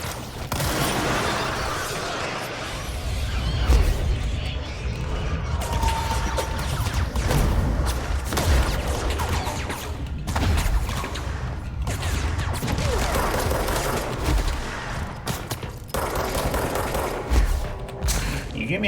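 Combat gunfire in the action game Control, with repeated sharp shots and booming impacts scattered through a busy mix of mechanical clatter and crashes, fairly loud and spread irregularly, with a voice talking over parts of it.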